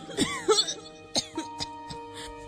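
A person coughs several times in a quiet room, a cluster of sharp hacking bursts followed by fainter, spaced coughs and throat clearing, close and alone.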